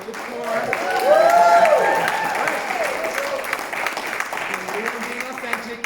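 Applause from an audience at a Utah LGBTQ+ economic summit talk swells over the first couple of seconds and then continues steadily, with whoops and voices rising over the clapping.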